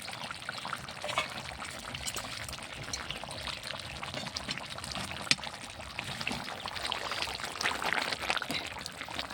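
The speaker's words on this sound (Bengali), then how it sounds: "মাংসটা আমি গামলায় ঢেলে নিলাম" Meat curry with thick gravy pouring from a cooking pot into a large bowl, a steady wet slosh and trickle lasting throughout, close and moderately loud with no talking.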